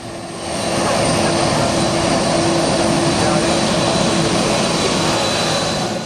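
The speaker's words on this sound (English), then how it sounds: "Moments later, full power engaged, generating a powerful jet wash that hurled beachgoers backward." A KLM Boeing 747 at full takeoff thrust on departure from St. Martin, its jet engines building quickly into a loud, sustained close roar with a steady tonal whine.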